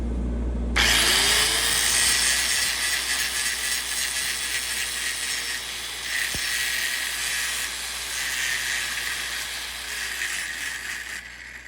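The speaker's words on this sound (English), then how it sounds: "So let's go ahead and grind it down and feather it." Angle grinder grinding down and feathering a weld on a 3-inch steel pipe, a loud sustained high-pitched whine that kicks in after a brief pause and holds with slight fluctuations until stopping at the very end.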